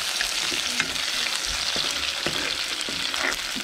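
Crushed ginger and garlic fry in hot oil for a Nepali soup while being stirred, giving a constant close sizzle with scattered scraping and clinking strokes from the utensil against the pan.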